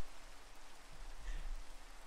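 Steady, soft rainfall in Minecraft patters on the ground as a continuous gentle hiss, with no voices over it.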